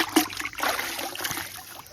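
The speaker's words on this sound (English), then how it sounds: "what I'm going to do is I'm going to dip him in the water" A plucked chicken carcass is dipped into water on processing day, giving sloshing and trickling splashes that run continuously, fairly close and moderately loud.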